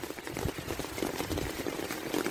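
Floodwater rushes steadily across a fairground during the Hilden floods, a continuous broad churning wash with no voices over it.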